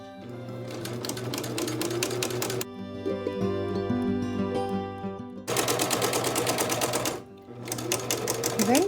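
A sewing machine runs an edge stitch along fabric, its needle chattering in a fast, steady mechanical rhythm that pauses briefly and then resumes, close and clear with no voices.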